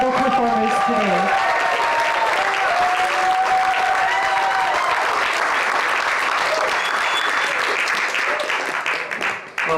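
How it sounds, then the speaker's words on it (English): An audience at a poetry recitation event gives its performers a final round of sustained applause. A speaker's voice is heard at the start, then dense clapping continues throughout and trails off at the end. "And one more final round of applause for all of our incredible performers today."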